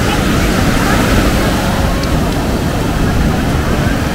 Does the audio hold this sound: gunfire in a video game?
no